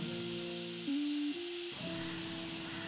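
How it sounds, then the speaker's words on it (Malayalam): Onions frying in a pan for Kerala-style kadala curry give a steady, close sizzling hiss, with sustained tones running underneath throughout. "ചെറുതായിട്ട് ബ്രൗൺ കളറാവുന്നത് വരെ വറക്കുക"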